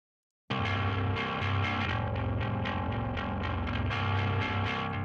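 A bass guitar run through a distortion pedal effect plays a continuous, gritty, heavily saturated riff with rhythmic plucked attacks, loud and close, starting abruptly after a brief silence.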